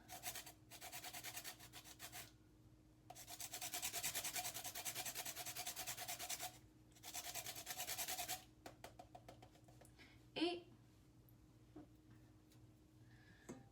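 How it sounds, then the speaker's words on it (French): Lime zest is grated over rice in repeated rasping strokes, long scratchy passes separated by short pauses, then a few lighter taps and scrapes near the end. "À mon riz, je vais rajouter un petit peu de zeste de lime."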